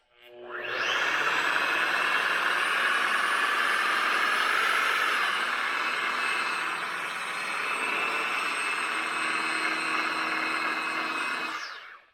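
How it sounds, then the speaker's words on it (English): A countertop polisher runs at a medium setting, a loud, steady motorized whine that holds for about eleven seconds with a slight dip midway before cutting off. "You want to keep your polisher moving."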